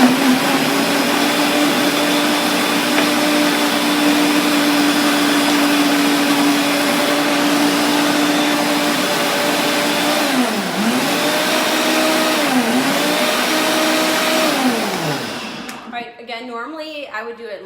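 Blender whirring loudly and steadily while blending a cocoa nib, peanut butter and banana smoothie, with its pitch dipping twice as the load shifts, then cutting off near the end as a voice begins to speak.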